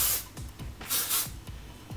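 Hairspray is misted onto curled hair in a series of short, close hissing bursts, about six quick puffs over two seconds with a longer spray in the middle.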